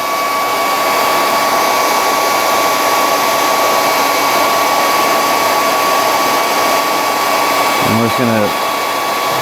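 A heat gun blows steadily on plastic model kit parts near the waist area of a 1/72 Sinanju, its loud whooshing hum with a fixed whine running unbroken while a voice speaks briefly near the end.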